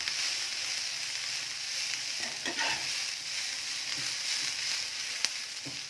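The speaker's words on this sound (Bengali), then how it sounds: "বেলে মাছটা ভাজা হয়ে গেছে হালকা, মানে ভালোই ভাজা হয়েছে।" Bele fish frying in oil with onion and green chili, a loud steady hiss of sizzling oil with occasional spatula scrapes and a sharp tap, close and continuous without speech.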